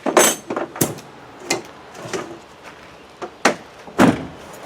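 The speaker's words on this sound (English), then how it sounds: "Don't these doors shut lovely?" A Land Rover Defender door being worked and shut, giving a series of sharp metallic thuds and clunks spaced irregularly, loud and close with no talking.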